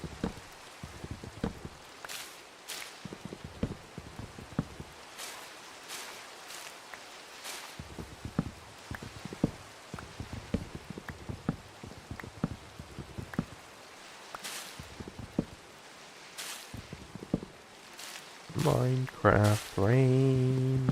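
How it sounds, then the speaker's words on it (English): Rain falls in the Minecraft video game as a light, scattered patter of soft taps and ticks that continues throughout. Near the end, a brief voiced murmur rises over it. "I have to deal with Minecraft rain."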